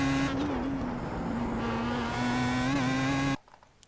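Pro Mazda race car at Belle Isle revving hard under full throttle, a loud close engine drone with steady harmonics rising and dipping slightly, then cutting off abruptly near the end.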